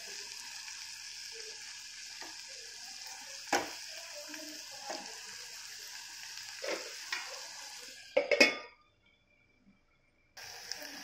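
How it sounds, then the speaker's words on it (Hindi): Tomatoes cook in a pan for a paneer curry, giving a steady sizzle with occasional stirring scrapes and clinks, then a short silence before the frying resumes. "अभी इन्हें हम 2 मिनट के लिए पकाएंगे जिससे कि टमाटर हमारे"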